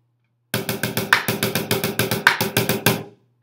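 Snare drum playing a steady run of sixteen crisp, evenly spaced strokes, mostly center hits with a few sharper rim shots on the backbeats, close and loud with no talking.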